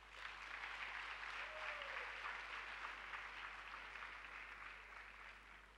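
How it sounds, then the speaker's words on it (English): Graduates applauding themselves at a university congregation ceremony, a broad, sustained wash of many hands clapping in a large hall, distant and faint with a steady low hum beneath. "You should applaud yourselves."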